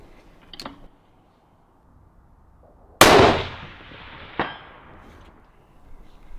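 A long-range rifle shot on an outdoor range, heard as one sharp loud crack followed by a rolling decay and a second fainter impact-like report about a second later, with no talk.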